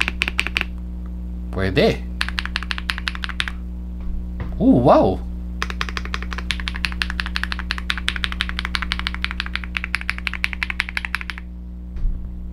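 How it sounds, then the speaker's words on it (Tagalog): Rapid typing rattles on a full-size FURYCUBE K99 PRO mechanical keyboard in close, continuous bursts of clicky keystrokes, broken by two short spoken exclamations. "typing test."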